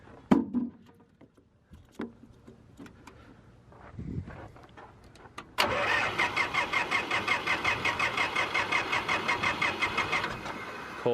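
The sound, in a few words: car engine cold start after motor work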